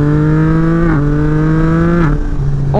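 Yamaha MT-09 SP 2024 motorcycle fitted with an Akrapovic exhaust, its engine loud and close, holding steady revs with quick drops and rises as gears shift, no voices over it.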